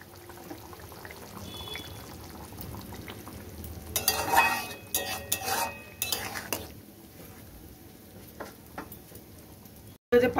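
Chicken pieces go into a pot of boiling water, giving a burst of splashing, clattering and stirring against the pot, then quieter bubbling and a faint clink at the end.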